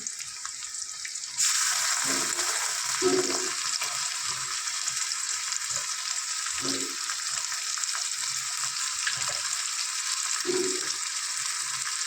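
Onions fry in a pan with a steady sizzle that starts abruptly and holds throughout, punctuated by a few soft clinks and stirring knocks, with no talking.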